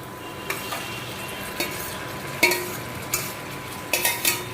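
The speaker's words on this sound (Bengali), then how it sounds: "এবার ম্যারিনেট করা চিকেনটা এবার তোমায় কড়াইতে ঢালতে।" Marinated chicken goes into a wok of frying onions and capsicum, bringing a steady sizzle broken by several sharp clinks and scrapes as the pieces are stirred, near and fairly loud.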